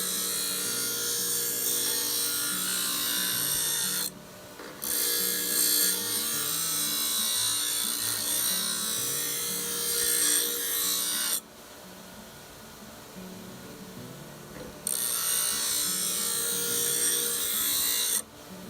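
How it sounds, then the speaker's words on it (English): An elbow adze blade is ground against a grinding stone, giving a steady, close, raspy scraping that continues in long strokes with a few short pauses between passes. "we're going to be moving it across the face of that grinding stone, just like that"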